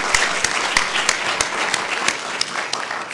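Audience applause at a medical research conference session, a dense steady patter of many hands clapping throughout with sharper individual claps standing out, fairly close and continuous.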